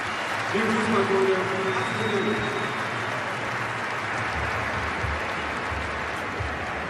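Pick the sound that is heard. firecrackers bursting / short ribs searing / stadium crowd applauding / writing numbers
stadium crowd applauding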